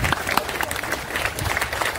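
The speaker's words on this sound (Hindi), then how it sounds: "सारे दोस्त इन भाइयों के लिए जरा 2 सेकंड ताली बजा रहे हैं" Members at an employees' union meeting applaud, a dense, close burst of clapping that holds steady for about two seconds.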